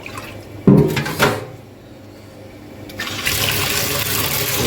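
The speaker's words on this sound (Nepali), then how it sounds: "अब यसलाई पानी हाल्नुपर्छ" Water is poured into a cooking pot on a lit gas stove in a home kitchen: a couple of brief clunks, then a steady, fairly loud rushing stream from about the midpoint onward, with no talking.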